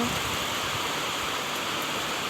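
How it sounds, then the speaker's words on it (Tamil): Heavy thunderstorm rain pours down in the Dharmapuri district, a steady dense roar of falling water close by, loud and unbroken with no voices over it. "இடி மழை வந்துகிட்டே இருக்குங்க."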